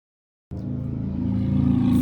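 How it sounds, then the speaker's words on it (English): A ride-on lawnmower engine starts abruptly after half a second of silence and hums steadily as it drives down a road, a low, close motor drone that gradually grows louder. "It's a man driving his lawnmower down the road."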